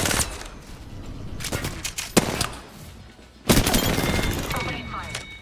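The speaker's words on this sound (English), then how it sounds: "Opening fire." Rapid automatic gunfire in the video game Apex Legends, dense bursts of shots with sharp cracks and a couple of heavier impacts, loud and close, mixed with game effects and some talk over it.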